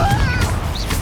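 Confringo spell cast in Hogwarts Legacy during combat, a short, loud fiery burst with bright whooshing streaks and a crackling impact, heard over overlapping voices.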